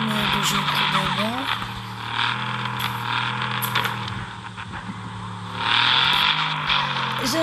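A car skidding in the mobile driving game Car Parking: steady engine drone with tyre squeals rising and falling, loud and close, and a burst of revving near the end, with a voice talking over it.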